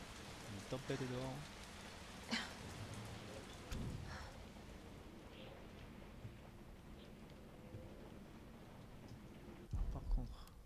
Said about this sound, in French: Une tempête dehors.